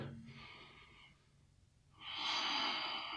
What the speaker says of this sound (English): Another big breath in the side bend